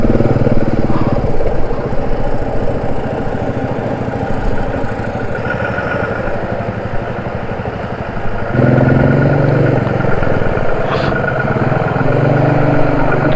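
A motorcycle engine drones steadily and loudly while riding a rough mountain road under construction between Keylong and Tso Kar in Ladakh, with a heavier, deeper rumble surging in after a few seconds amid wind and rattling.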